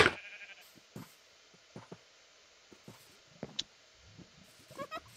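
Blocky video-game sheep give short, quiet bleats scattered at irregular intervals over a soft, near-silent backdrop, with a few small clicks and game effects between them.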